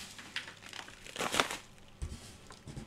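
Paper packaging and yellow envelopes from a parcel crinkle and rustle as they are slowly opened up close. The crisp crackles come in bursts, loudest near the middle, with no speech.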